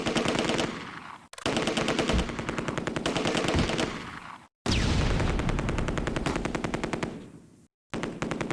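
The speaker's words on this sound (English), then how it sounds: "They got a 30 cal right there." .30 cal machine gun fire in the wartime video game Close Combat, loud sustained rapid bursts running several seconds each, broken by brief silent gaps.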